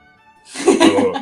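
A single sudden, breathy sneeze bursts out after near silence, loud and close.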